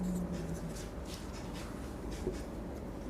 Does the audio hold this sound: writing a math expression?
yes